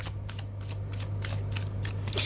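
Tarot cards are riffled and shuffled by hand in quick, crisp flicks that repeat rhythmically over a steady low hum, close and fairly loud.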